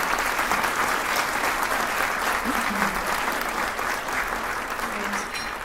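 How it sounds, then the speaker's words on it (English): An audience at a youth orchestra concert applauds steadily, a dense, even wash of clapping from a large hall crowd that fades slightly toward the end. "one more round of applause"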